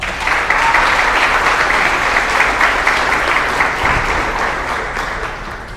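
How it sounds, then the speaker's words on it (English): Sustained audience applause for fair royalty contestants at a county fair royalty contest, loud and dense throughout, easing slightly toward the end. "Let's give them all a round of applause."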